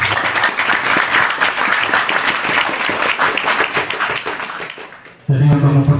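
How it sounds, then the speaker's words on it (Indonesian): An indoor audience at an Islamic study gathering claps in loud, dense applause that fades over a few seconds, after which a voice starts speaking. "Tepuk tangan buat kita semua."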